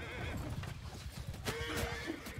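Horses whinny amid battle noise in the video game Bannerlord, with a clear neigh near the middle over a constant dense rumble of clashing armies and hooves.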